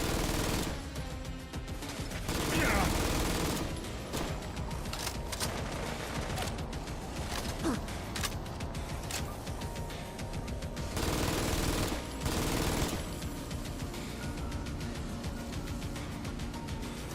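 Gunfire in the video game Fallout: London crackles in long, dense bursts of rapid automatic shots and scattered single reports, continuous and loud throughout with no pauses.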